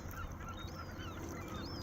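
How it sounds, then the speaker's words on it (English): Seagulls calling over Hog Island on Lake Michigan, a faint wash of distant overlapping cries and squawks under steady wind or water noise, no talk. "Look at all the seagulls."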